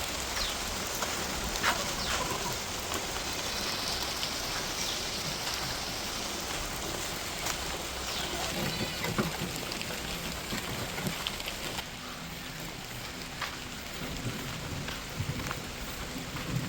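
Heavy rain pours down outdoors, a dense, steady hiss of falling water that fills the whole stretch without letting up.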